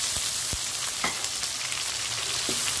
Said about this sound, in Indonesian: Tumis sampai naik bau wangi.